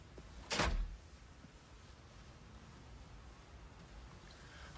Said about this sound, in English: Open the door, Bill.